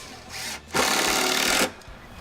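A power drill drives 2.5-inch screws into wooden deck joists, with a short whir followed by a longer steady burst of about a second, close and fairly loud with no talk.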